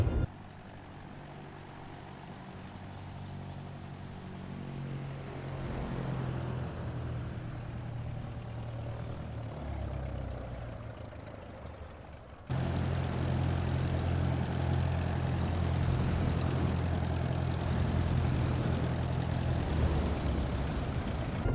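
A light airplane's engine in Microsoft Flight Simulator 2024, heard after a grass landing in career mode: a steady droning hum that swells midway, then holds louder and brighter to the end, with no talk.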